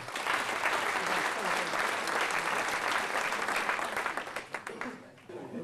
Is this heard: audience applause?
yes